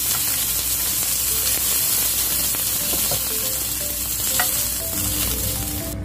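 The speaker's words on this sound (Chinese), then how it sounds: "煎到兩邊有色，大概七八成熟到。" Shrimp pan-frying in a wok over high heat, a constant close sizzle with occasional light scraping and clicks from a utensil turning the pieces, no talking.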